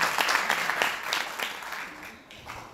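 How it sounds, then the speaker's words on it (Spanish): Audience applause at an Oriflame presentation in Spanish, a brisk burst of many hands clapping that starts strong and gradually thins out and fades, heard in a roomy space without talk. "un aplauso para todos."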